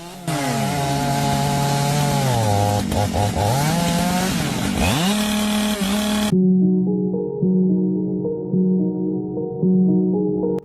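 A V8-powered Renshaw log-cutting machine saws through a 550 mm log, a loud close roar with the engine pitch dropping and surging under load, then settling into a steadier lower drone after the cut.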